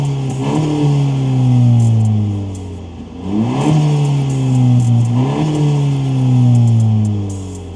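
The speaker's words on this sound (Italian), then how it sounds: "perché quando si scalda lo scarico suona un filino in più" A Honda motorcycle exhaust revs up and drops back three times in a row, loud and close, each rev rising sharply then falling to idle.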